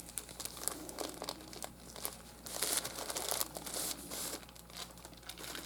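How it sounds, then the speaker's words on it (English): Plastic packaging holding craft supplies crinkles and crackles close by in irregular bursts, with a few sharper tearing-like rustles rising in the middle, no talk. "Not sure if you could hear me over the crinkling."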